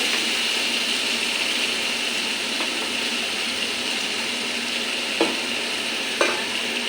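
Steady sizzling with a spoon stirring pointed gourd through a thick spice paste in a pan, a couple of sharp scrapes near the end.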